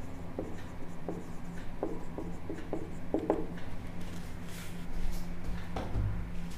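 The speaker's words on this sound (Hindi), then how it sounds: "तो इसको हम लिख लेते हैं" Pen or chalk writing out arithmetic progression maths working, a series of short scratchy strokes in irregular bursts, close and moderately loud with no talk.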